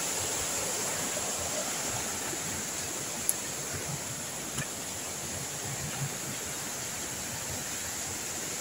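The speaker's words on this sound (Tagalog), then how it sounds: "Yan yung ilog ko." A river flows in a steady, broad wash of rushing water, continuous and fairly close, with no voices over it.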